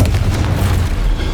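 Confringo fire spell explosion in Hogwarts Legacy, a loud deep booming blast with a rumbling low roar sustained through the moment, close and alone without talk.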